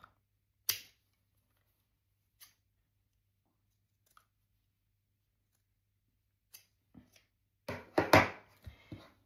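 Scissors trim the fabric corners of a sewn seam, giving sparse, sharp snips spaced seconds apart, then a quicker cluster of cuts at the end against near silence.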